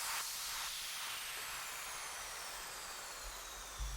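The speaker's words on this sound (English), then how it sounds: "And underneath that one I added another sweep. That one has a little bit of movement." A noise sweep with a little movement, layered in an EDM remake, steady loud hiss with slowly drifting sweeping tones and faint pulsing in the upper range, lasting about four seconds.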